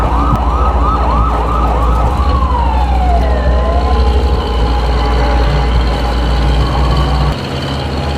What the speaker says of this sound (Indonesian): Sirene menyala sendiri.